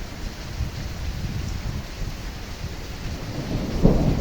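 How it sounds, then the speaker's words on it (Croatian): Steady heavy hailstorm drumming throughout, with a rumble of thunder swelling near the end; no voices. "ovo nije samo prolom oblaka, ovo je pravi led, ljudi"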